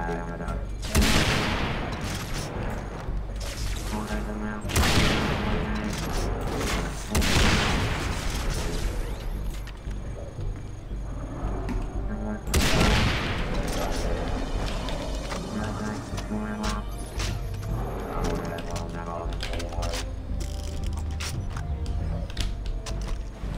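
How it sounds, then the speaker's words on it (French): In the video game Far Cry 3 Blood Dragon, explosive bullets are fired in loud, booming bursts that repeat over several seconds, with someone speaking now and then between shots. "Ah oui, les balles explosives sont pas mal."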